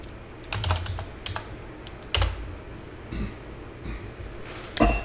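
A computer keyboard being typed on to enter a compile command, heard as a few quick bursts of close, crisp key taps with short pauses between them.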